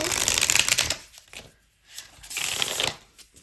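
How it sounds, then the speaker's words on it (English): Cards being shuffled up close: two fast riffling bursts separated by a brief pause, crisp and papery. "let me shuffle this"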